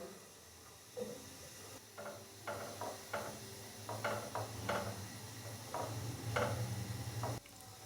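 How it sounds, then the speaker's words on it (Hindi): Butter in a frying pan on the stove for a samosa sandwich, with a faint sizzle and soft hiss under scattered light ticks and clicks of a utensil against the pan, fairly quiet and steady. "मक्खन अच्छे से मेल्ट हो चुका है।"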